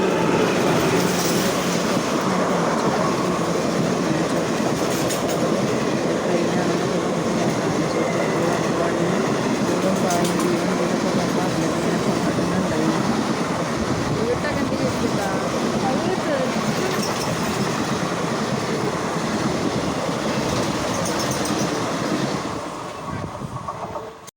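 A passenger train running on rails, heard from inside the carriage as a loud continuous rumble with a rhythmic clatter of wheels throughout, and voices faint beneath it.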